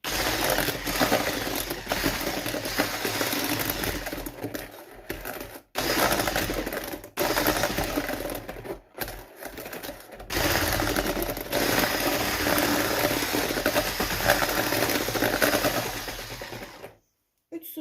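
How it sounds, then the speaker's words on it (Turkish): Electric hand mixer whisking cake batter with milk in a bowl for a strawberry tart cake, a loud buzzing whir in long bursts broken by short pauses, close up, stopping near the end. "Biraz daha çırpacağım."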